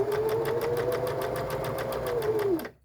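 Sewing machine basting around a dress sleeve in one continuous run of rapid, even stitching pulses with a steady motor hum, ending in a brief slowdown before it stops.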